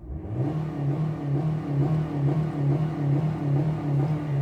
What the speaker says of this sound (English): this is the way you rev and start up an engine